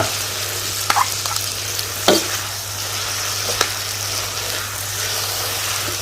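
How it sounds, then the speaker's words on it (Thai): Pad thai noodles with sauce are stir-fried in a hot pan, a steady loud sizzle with occasional spatula scrapes and knocks over a constant low hum, no one speaking. "ผัดให้จนน้ำแห้งหรือผัดจนเส้นนิ่ม แล้วเราก็ใส่ซอสที่เราทำไว้นะครับ"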